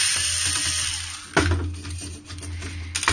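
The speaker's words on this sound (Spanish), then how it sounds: "para quitar lo que es el chasis metálico, aún tendríamos que quitar este tornillo de aquí" A screwdriver working a screw loose from the metal chassis of a fat PlayStation 2 console, close-up scraping and grinding over a steady background hum, with a sharper jolt partway through.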